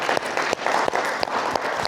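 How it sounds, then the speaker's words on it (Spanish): A church congregation applauds the Lord during a worship service, a steady wash of clapping with a few sharper claps standing out, filling the short moment without speech. "Vamos a dar un aplauso al Señor."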